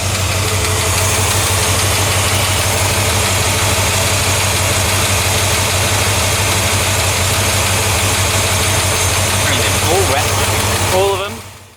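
A Ford Falcon XW engine, freshly rebuilt, idles steadily with a loud, continuous low rumble and a ticking tappet noise running throughout, heard up close with no talk over it.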